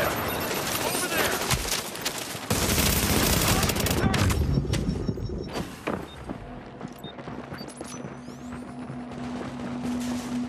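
Gunfire fills the scene in The Division's Last Stand DLC, with sustained automatic bursts and scattered shots, distant booms and game voice callouts mixed in, loud and continuous before thinning into sporadic fire.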